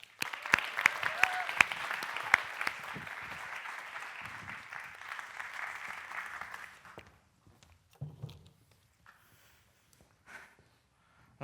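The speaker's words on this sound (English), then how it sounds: "we can have wild applause, please, for our Vietnam champion, or Vietnampian for short, Thatch Pham." Audience at a FameLab International science-communication competition semi-final breaks into loud, dense applause with a few whoops, sustained for about seven seconds before fading into scattered claps and quiet.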